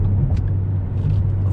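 A 2014 Ford Mustang GT California Special cruising along, its V8 giving a steady low engine rumble close by, with a few faint higher clicks and road noise overhead.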